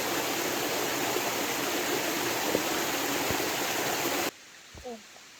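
Hidden Falls pours as a loud, steady wash of waterfall noise that fills the scene and then cuts off abruptly near the end, leaving near silence with a brief faint sound.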